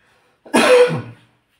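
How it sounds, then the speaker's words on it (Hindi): A single harsh cough with a throaty rasp, close and loud, then quiet. "सॉरी, क्योंकि खांसी हो रखा है"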